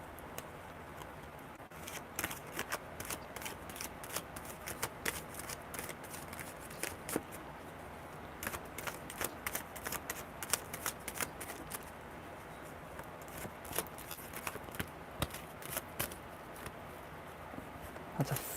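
A deck of tarot cards is shuffled by hand during a live card reading, giving a soft, continuous riffle of quick papery flicks and taps, fairly quiet and close, with no talking.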